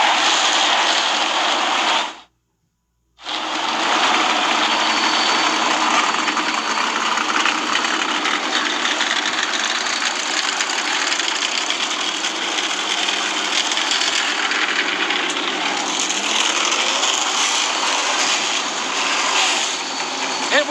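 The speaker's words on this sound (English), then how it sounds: "start your engines." Several NASCAR race car engines fire up and idle together at a night race, a loud, steady, dense roar that drops out briefly near the start and then holds on without a break. An announcer's voice sits faintly under the engines.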